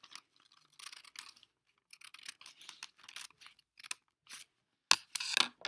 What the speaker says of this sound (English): I'm just going to cut to that second line, and then I can check, and that looks great, and then I'm going to cut it off